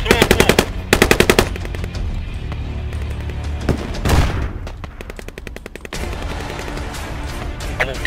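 Gunfire in the military shooter game Squad: loud, close automatic bursts and sharp single shots, broken by short pauses, with heavy booms among them.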